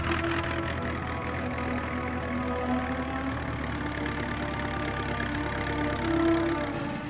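An early aircraft engine on the Wright brothers' flyer runs steadily, a continuous mid-low mechanical drone with a rough, knocking pulse, close and loud, with no talk over it.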